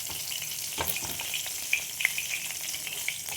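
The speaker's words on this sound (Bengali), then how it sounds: "দেখো মাছগুলো ভাজা হয়ে গেছে" Tengra fish frying in hot oil, a steady close sizzle with small pops and crackles throughout, no voices.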